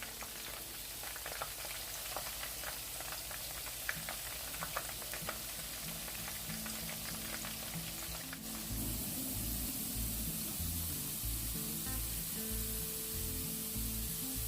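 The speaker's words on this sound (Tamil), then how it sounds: "இப்போ இந்த பாவக்காய் நல்லா பொரிஞ்சிட்டு நாங்கள் இப்போ இதை எடுக்கலாம்." Sliced bitter gourd fries in hot oil with a steady, dense sizzle and crackle, close and continuous, growing slightly louder and fuller partway through.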